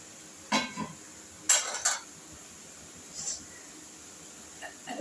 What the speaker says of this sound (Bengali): এবার আমি ঢেকে দিচ্ছি, সামান্য একটু হবে আর ঢেকে, এবার আমি ঢেকে দিচ্ছি।